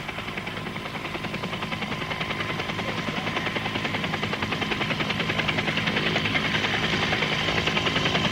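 A helicopter hovers above a 1999 San Sebastián classic cycling race, its rotor chop a fast, even pulse that grows gradually louder across the whole stretch.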